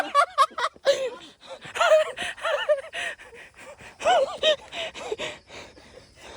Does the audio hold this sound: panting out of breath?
yes